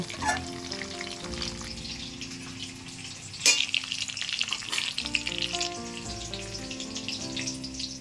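Potato and cauliflower pieces fry in hot oil with a steady, dense sizzle throughout, broken by a few sharp clatters of utensils midway; no voices.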